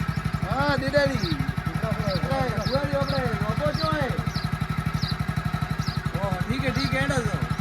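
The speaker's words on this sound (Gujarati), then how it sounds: "બાઈક તો બંધ કરો ભાઈ" A motorcycle engine runs steadily nearby with a fast, regular pulsing thrum, while people talk loudly over it almost throughout.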